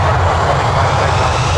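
A Boeing 737-800 on the runway at Toronto Pearson airport gives a loud, steady, broadband roar of jet engines at close range.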